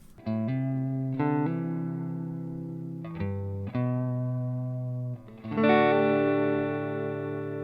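A distorted electric guitar through a Joyo cab simulator box plays chords and held notes with a thick, compressed, slightly boxy tone, loud and continuous with no talking.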